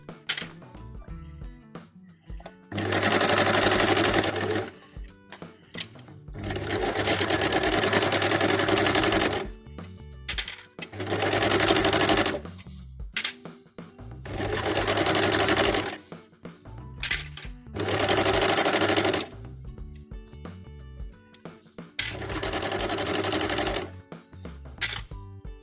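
Sewing machine stitching two layers of fabric for a surgical cap, running in six loud bursts of a few seconds each, separated by short quiet pauses.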